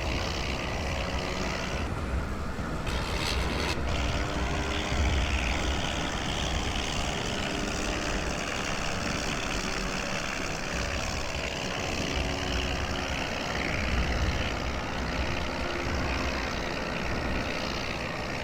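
Rotary engine drone of a Nieuport biplane in the World War I flight game Wings Over Flanders Fields, a steady rumbling roar holding for the whole stretch with a brief rattling burst early on and no talk.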